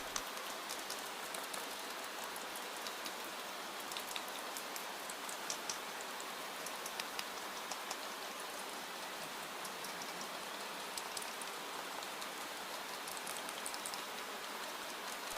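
Steady rain beats against a glass dome, a continuous, fairly faint hiss of dense drops with scattered light ticks and no voices.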